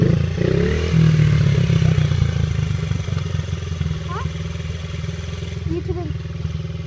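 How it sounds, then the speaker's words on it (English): A dirt bike engine runs steadily and close by, a continuous low throbbing drone with slight rises in revs and some clattering, while a person speaks over it. "Get on my dirt bike."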